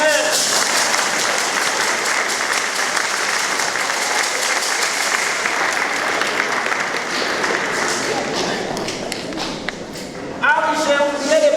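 Church congregation applauding after a first communion ceremony at Saint Jean-Apôtre, sustained dense clapping filling the space, thinning out near the end as a voice speaks briefly.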